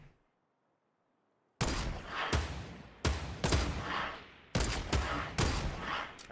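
Gunshots ring out in Fortnite as a string of loud, sharp reports in uneven bursts after a short silence, with echoing tails between the shots.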